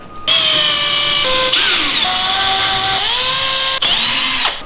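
A power drill whirs loudly in several short bursts while marking drywall, its motor pitch rising and dropping as it starts, slows and revs again.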